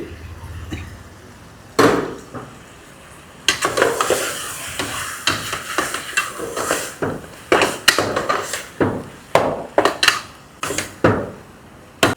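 Brown onion paste frying in a rice cooker for chicken pulao, with repeated sharp stirring and scraping clatters of a utensil against the pot over a steady sizzle, close and fairly loud.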